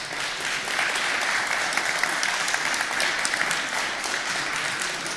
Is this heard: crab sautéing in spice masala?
no